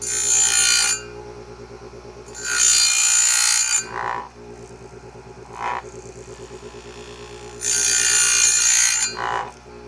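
An Oregon 620-120 chain grinder fitted with a CBN wheel sharpens a chainsaw chain, giving three loud, bright grinding bursts of a few seconds each over a steady motor hum, with short clicks of the chain indexing between passes.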